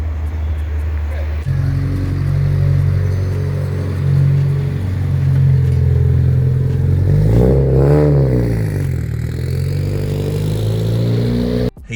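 A tuned BMW E82 135i with full bolt-ons and over 400 bhp idles with a deep, steady drone inside the cabin, then the engine revs up and falls back, while people talk over it.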